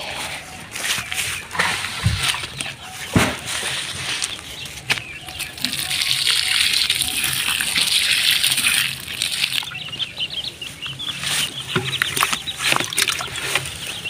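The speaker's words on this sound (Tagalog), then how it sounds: "Tingadiligan ng tubig." Water poured onto a potted marcotted calamansi plant outdoors, a steady rushing splash that swells in the middle and then turns choppier, with occasional bird calls.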